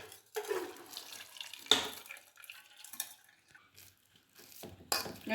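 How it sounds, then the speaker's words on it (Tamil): Cooking water drains off boiled chana dal being strained in a kitchen, with splashing, pouring and clinks of a metal pot and spoon in uneven bursts. "இந்த தண்ணியை அப்படி வடிகட்டிடுவோம்."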